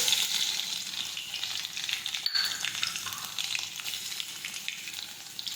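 Mustard seeds, cumin and crushed garlic hit hot oil in a pan, a loud, steady crackling sizzle that holds close and continuous throughout with no voices.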